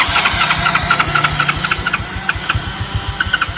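A BMW car engine that is having trouble starting turns over with rapid, rhythmic, loud pulses and a knocking mechanical clatter, heard up close.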